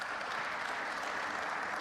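A big crowd applauds steadily at the Tempodrom during a German Masters snooker quarter-final, the clapping a dense, continuous wash with no talk over it.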